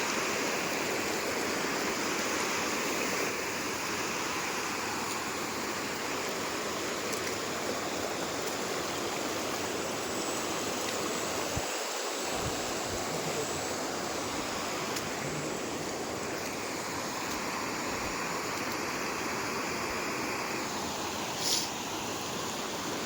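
River water rushing steadily past at close range, a dense, even roar that holds throughout with no voices, one brief dip midway.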